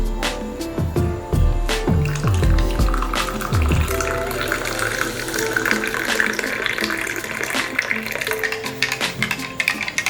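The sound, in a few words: hot water poured onto coffee powder and stirred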